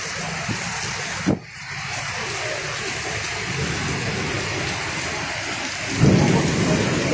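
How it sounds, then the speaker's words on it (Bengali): A dense downpour hisses steadily, broken by a sharp knock near the start and a louder gush toward the end. "ভালোই জোরে বৃষ্টি পড়ছে,"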